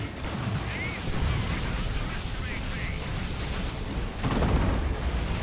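Stranglethorn Cannon artillery from the Dawn of War 2 strategy game fires in a 3v3 battle, making a dense, continuous rumble of explosions with a heavier burst near the end, under a busy game mix.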